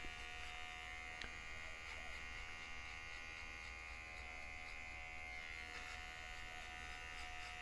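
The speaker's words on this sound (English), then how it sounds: "so the trimmer won't work too hard" An electric hair trimmer runs continuously during an at-home haircut, a steady close high buzzing with slight fluctuations as it cuts through hair.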